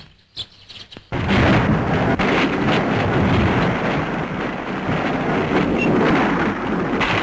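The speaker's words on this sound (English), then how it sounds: "Like a force of nature, Godzilla destroys buildings" Deep crashing roar and crumbling debris as Godzilla wrecks buildings in the 1954 Japanese film Gojira, a loud dense continuous rumble after a few brief thumps.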